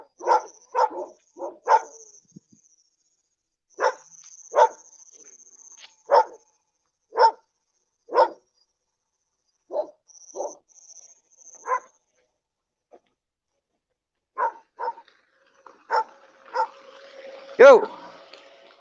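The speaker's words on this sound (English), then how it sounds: "Put a bit more distance, and the less they barking." Several dogs barking outdoors along a roadside, the sharp barks arriving in short bursts and scattered single yaps with gaps between them, fairly close and loud, with a car passing near the end.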